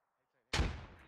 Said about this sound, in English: He's throwing a second frag. I think it's gonna roll down the hill.